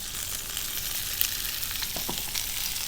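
Eggplant slices fry steadily in a hot pan with tomatoes added alongside, giving a continuous close sizzle with a few sharper pops and crackles.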